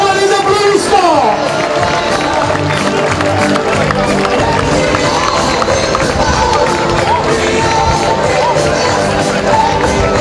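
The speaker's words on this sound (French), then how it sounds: "Et pour tous les bénévoles, encore une fois les applaudissements." Loud, sustained applause from a crowd at a French pétanque championship awards ceremony, honoring the volunteers, with cheering and hubbub mixed in over a continuous dense wash of clapping.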